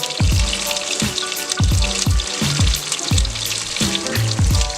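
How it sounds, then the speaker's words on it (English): Loud, steady sizzling of breaded chicken frying in hot oil for chicken parmesan, close up, with crackling pops and some rhythmic thumping underneath. "it should automatically start sizzling"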